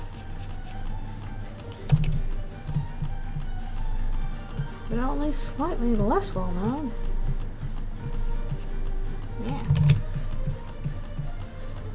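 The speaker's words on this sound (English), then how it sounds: "you can pretend the crickets are Halloween noises, because it's almost Halloween" Steady crickets chirp through the whole stretch as a constant high trill, with a voice talking over them and a few brief knocks mixed in.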